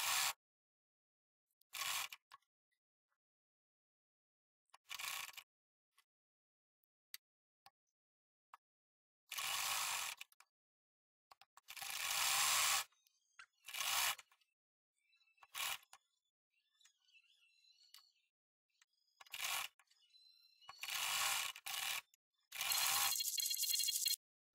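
A sewing machine stitches a round frock in repeated bursts of rapid mechanical whirring, each lasting one to three seconds and separated by pauses of quiet.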